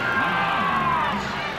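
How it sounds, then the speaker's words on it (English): Basketball arena crowd at the 1991 Eastern Conference Finals between the Bulls and Pistons, a loud, dense sustained roar of chanting voices filling the space with no break. "Chant of defense from the crowd"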